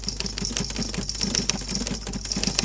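A typewriter sound effect from the Canva editor's library plays rapid, uneven mechanical key clacks in a dense, close, continuous stream with no talking.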